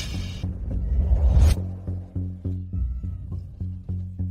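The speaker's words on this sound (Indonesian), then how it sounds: "Cuma kucing." A cat meows repeatedly, a string of short, close calls in a steady rhythm over a low rumbling background.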